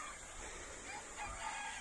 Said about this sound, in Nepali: यहाँ अहिले 350 वटा चल्ला छ।